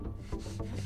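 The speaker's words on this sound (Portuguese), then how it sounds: "Estão quebrando a parede." Enemies smash through a wall in Rainbow Six Mobile: close, rough scraping and splintering crunches in a few quick bursts, with a low hum beneath, all under a second.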